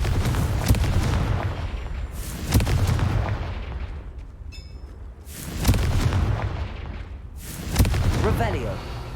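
In the wizarding game Hogwarts Legacy, the Confringo blasting spell sets off four heavy explosions a couple of seconds apart, each a deep boom that swells and fades over a continuous bed of rumbling game sound.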